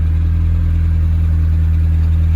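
A Lamborghini Temerario with its stock OEM exhaust idles steadily, a loud, deep, even engine drone heard from inside the cabin with no variation in pitch.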